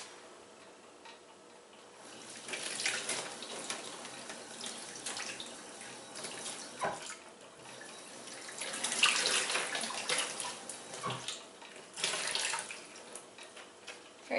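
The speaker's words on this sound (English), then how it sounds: "I'm going to rinse it off in water." Tap water runs over garlic and ginger being rinsed at a kitchen sink, an uneven splashing stream that swells and eases in bursts, fairly soft and close, with no talking.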